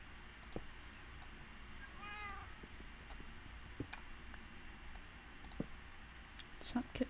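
Cat meowing in a Minecraft game, a short rising meow heard once amid faint clicks and ticks over a quiet background, with no talking.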